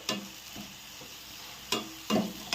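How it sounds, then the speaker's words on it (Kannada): Eggplant frying in oil in a North Karnataka style eggplant dish, stirred with a few scraping strokes over a soft, steady sizzle, close and fairly quiet. "ಎಣ್ಣೆ ಒಳಗೆಲ್ಲ ಫ್ರೈ ಆದ್ರಿ ನೀಟಾಗಿ."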